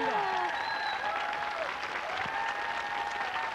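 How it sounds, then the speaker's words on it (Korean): An audience applauds after a hapkido martial arts demonstration, a steady, fairly soft spread of clapping with faint voices carrying over it. "큰 박수 주세요."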